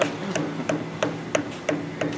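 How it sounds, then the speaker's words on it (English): Hammer tapping a cooling fan onto the motor shaft of a Baldor 2HP electric motor, seven evenly spaced, moderately loud metallic taps close by. "And Hit it with a hammer? Hit it with a hammer."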